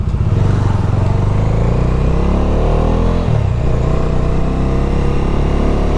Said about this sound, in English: I love the exhaust note of this. BAJAJ has done a really good job with the exhaust.